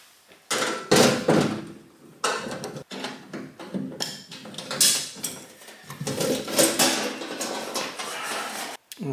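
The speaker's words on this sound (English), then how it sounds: "And now I can open the panel." The metal cover of a home electrical breaker panel being opened, with a series of loud close clanks, scrapes and rattles of sheet metal, some sharp knocks, and no talking.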